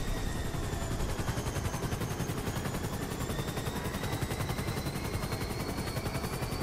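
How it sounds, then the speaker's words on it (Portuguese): A one-person helicopter in the video game GTA V gives off a rapid, steady rotor chop, a dense mechanical pulsing with a thin whine above it, holding at an even moderate level throughout with no voices. "Esse helicóptero de uma pessoa só."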